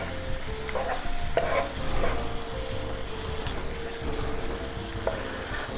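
A Philly cheesesteak sloppy joe sauce being stirred in a hot pan, with steady close sizzling and frying plus scraping stir strokes, no talking.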